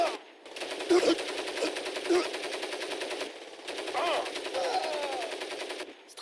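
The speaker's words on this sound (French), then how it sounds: "moi je prends la grosse mitrailleuse hein" In the video game Crysis, a heavy machine gun fires in long rapid bursts of rattling shots, with brief pauses between them and a voice talking underneath.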